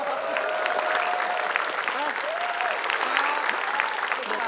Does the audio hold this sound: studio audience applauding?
yes